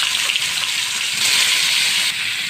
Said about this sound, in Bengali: তো মাছটা ভাজার জন্য এখানে আমি কিছু পরিমাণে রান্নার তেল দিয়ে দিব।